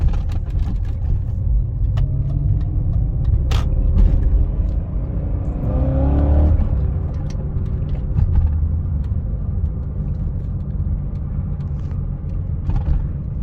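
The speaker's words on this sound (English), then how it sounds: "I just want to take the car for a little spin" A 2000 BMW E39 M5 being driven, its engine rumbling low and steady from inside the car with a swell of revving midway and scattered knocks and bumps over an uneven road.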